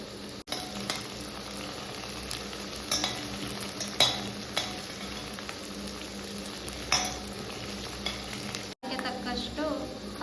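Cabbage palya with curry leaves sizzles steadily in a pan while a spatula stirs and scrapes at intervals, several sharper clinks of metal standing out over the continuous frying hiss.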